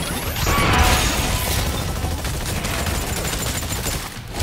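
Loud, dense barrage of weapon fire and crashing blasts in Exoprimal, a cannon among them, a continuous rattling roar with a whooshing sweep at the start.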